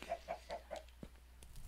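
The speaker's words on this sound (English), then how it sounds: "Oh my god, these chickens." Minecraft chickens clucking in quick succession, four short clear clucks in a row followed by a couple of softer, scattered game sounds, heard alone without talk.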